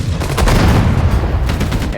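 Machine gun and artillery fire in the World War II strategy game Sudden Strike 4, Battle of the Bulge: a dense, continuous burst of gunfire and booms that is loud and close and fills the whole stretch with no pause.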